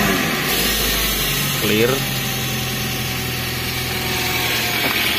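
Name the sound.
APV car engine starting and idling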